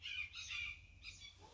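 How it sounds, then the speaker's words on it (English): Bird squawking outdoors, a short faint run of harsh calls, a couple of raspy notes repeated in quick succession at a distance. "What are you squawking about? Oh, there's two of them."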